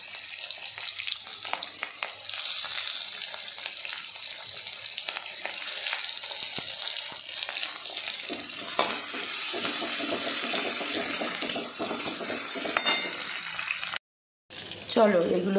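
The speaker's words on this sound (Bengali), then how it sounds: "জাস্ট পেঁয়াজ আর ক্যাপসিকামটা একটু ভাজা ভাজা হবে।" Chopped onion and capsicum frying in a pan, a steady hissing sizzle that runs for most of the stretch, with a brief break near the end before the sizzle resumes.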